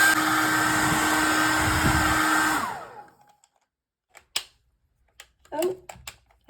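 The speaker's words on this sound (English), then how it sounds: "then blow dry it until it's sealed into the wax." A blow dryer heating a drawing into candle wax runs loud and steady with a whining tone, then cuts out and winds down, followed by a voice and small clicks.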